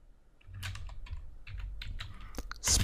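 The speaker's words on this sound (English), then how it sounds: "I'm just going to go into the Git bash and type in the command git" Someone types a command into Git Bash on a computer keyboard, producing a steady patter of soft, close key clicks that ends in a sharper, louder keystroke.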